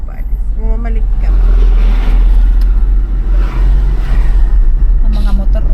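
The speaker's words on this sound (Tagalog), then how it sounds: "Ang mga motor, oh." Motorcycles pass along a road, their engines rising and fading one after another close by, while people talk over the traffic.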